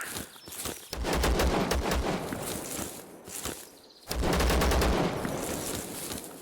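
Enemy gunfire in the video game Zero Sievert, two loud sustained bursts of rapid automatic shots separated by a brief lull, with footsteps in between.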